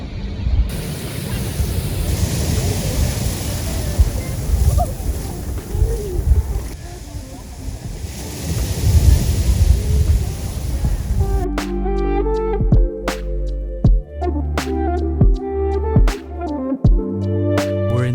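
Ocean surf at Pebbly Beach, Crescent Head, rolls as a loud, steady wash of waves for about eleven seconds before music takes over.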